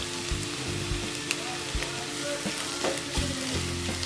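Bitter gourd frying in a pan, a steady close sizzle broken by scraping stirs and clinks of a spatula at irregular intervals, with no voices.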